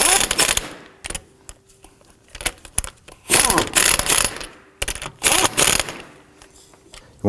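A hand ratchet snugs down the wheel lug nuts on a 2005-2009 Subaru Legacy during a rear CV axle job, with several bursts of rapid close clicking separated by short pauses.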